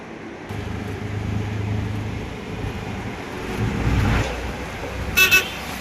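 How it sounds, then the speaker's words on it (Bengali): An auto rickshaw pulling up on a busy road near a ferry jetty, its engine rumbling close by amid traffic noise, followed by a couple of short horn toots near the end. "আমাদের অটো চলে এসেছে"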